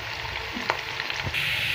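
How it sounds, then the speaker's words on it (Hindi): Chopped onions browning in hot oil, a quiet steady sizzle close by with a few small spatters and stirring clicks, no talking. "ये देखिए हमने प्याज को हल्का सा ब्राउन करना है और हमारा ऑयल जो है वो तो गर्म हो चुका है"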